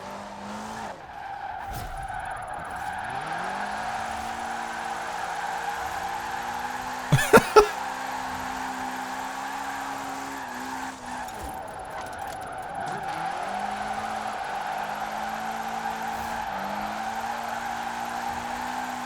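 Game car in Forza Horizon 4 with tuned camber and toe, its engine droning steadily while tires squeal and skid through corners, with a few sharp bursts midway and no talk.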